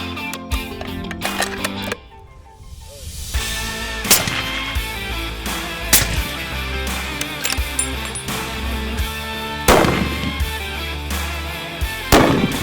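Rifle shots fired at a 200-yard target during a parallax adjustment test, a string of sharp loud cracks spaced irregularly and ringing out in the open, with one brief quiet gap near the start.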